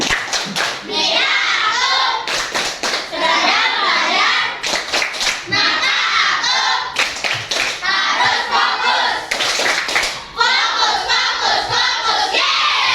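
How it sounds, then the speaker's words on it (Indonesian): A school class performs a rhythmic focus-clap routine: sharp, sets of synchronized hand claps in quick patterns, alternating with children's voices chanting loudly together in a classroom. "Oke, kita tepuk fokus lagi, tepuk fokus."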